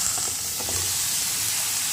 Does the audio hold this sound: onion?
yes